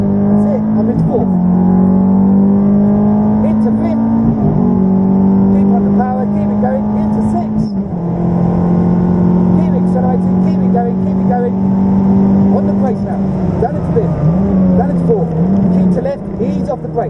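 A Ferrari F430 accelerates hard around Silverstone race track, its engine note climbing through the gears in steady revving sweeps with brief dips at shifts, loud and close throughout while a driving instructor talks over it.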